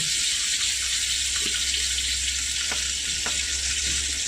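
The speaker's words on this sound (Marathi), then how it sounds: "छान लसूण जिरं मोहरी झाली आहेत. ह्यात टाकल्यात आता ह्या लवंगी मिरच्या." Green chillies sizzling in hot oil with garlic, cumin and mustard seeds, a steady loud frying hiss throughout with a few small pops and crackles, no voices.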